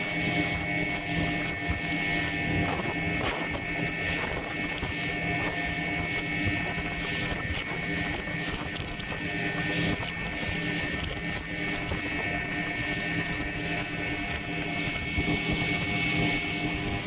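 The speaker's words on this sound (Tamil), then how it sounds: "பாருங்கள் இந்த போட்டி எவ்வளோ வேகமாக போகிறாங்க" Motorboat speeding across the water at Pulicat, a continuous loud engine drone mixed with wind buffeting and rushing water, steady throughout with no talk.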